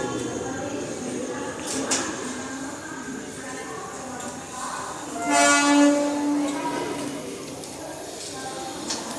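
A train rumbles into Kankavli railway station amid steady crowd noise, with a brief horn blast in the middle; birds are faintly audible.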